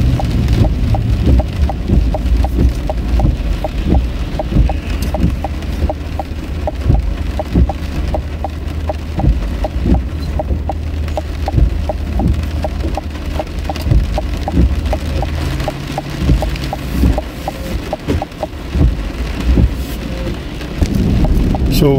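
Heavy rain drums on a car while driving near Edmonton, a dense, loud, continuous patter with many sharp drop impacts over a low road rumble, with no talking.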